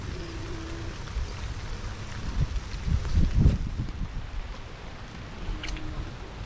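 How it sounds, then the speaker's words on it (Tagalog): Gusty typhoon wind rumbles and buffets against the microphone, surging in a strong blast midway before easing back to a steady rush. "oh yan ang hangin na po oh"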